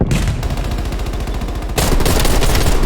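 Rapid automatic gunfire from a Type 63 tactical rifle in Call of Duty Cold War, a dense stream of closely spaced loud shots that briefly shifts to a brighter, harsher burst near the end.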